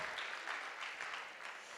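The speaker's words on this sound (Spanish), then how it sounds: "Date un aplauso a Dios." A church congregation applauds during a sermon, producing a soft, continuous patter of many hands clapping that stays faint and distant throughout.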